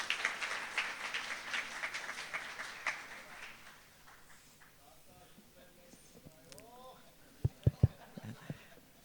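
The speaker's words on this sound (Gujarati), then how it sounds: "આપણે તાળીઓથી વધાવીએ." Audience clapping at a Sunday Swaminarayan satsang gathering, a burst of applause fading out over the first few seconds, followed by quieter room sound, a few tonal notes and loud thumps near the end.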